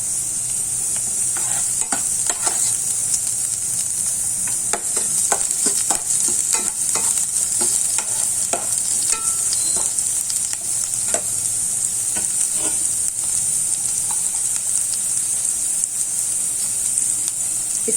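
Chopped tomato, garlic and other ingredients for idli tomato chutney fry in a pan while being stirred, a continuous close sizzle broken by frequent scraping and clinking strokes of the spoon.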